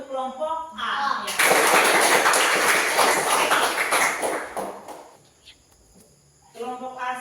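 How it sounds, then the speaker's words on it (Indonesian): A classroom group claps for group A after a presentation, a dense burst of applause lasting about four seconds that fades away, with a teacher's voice speaking before and after it. "Beri tepuk tangan untuk kelompok A."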